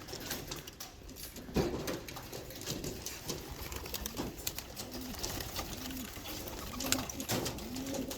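Young pigeons coo softly in a loft, repeated throaty coos rising and falling over a constant background hum with occasional flutters and taps; no talking.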